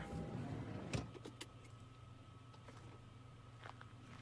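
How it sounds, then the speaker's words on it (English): Someone gets out of a car in a horror video game, with a sharp door clunk near the start followed by faint rustles and small clicks over a quiet background hum. "Okay, so I'm getting out of a car."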